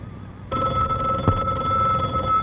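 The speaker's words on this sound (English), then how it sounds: "My phone. It's ringing." A vintage telephone bell rings steadily and loudly from about half a second in, a bright sustained ring with a small knock partway through, close by and with no talk over it.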